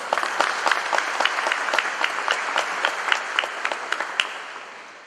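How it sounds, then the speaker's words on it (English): Steady audience applause at a convocation ceremony, with many hands clapping evenly at moderate loudness and slowly fading toward the end. "They deserve an applaud for their efforts"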